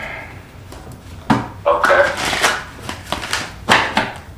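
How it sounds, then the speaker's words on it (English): Tarot cards are shuffled by hand in a series of soft riffling and tapping bursts, close by, with a voice speaking briefly over the handling. "let me shuffle these cards."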